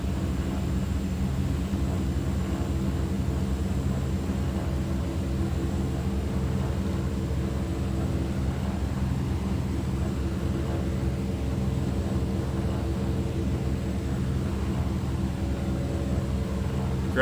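Inside the cockpit of a DHC-6 Twin Otter on approach, a steady, heavy drone of twin turboprop engines and airflow hums evenly for the whole stretch, loud and unbroken, with no one speaking.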